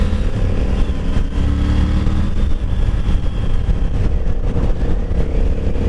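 A Triumph Tiger 900 Rally Pro motorcycle accelerating hard, its engine roaring loud and close with a steady, rough drone and wind noise throughout.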